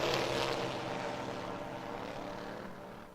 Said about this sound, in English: Ready, set, here we go. Green lights come on. We got a drag race.